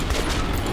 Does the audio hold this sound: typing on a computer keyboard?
no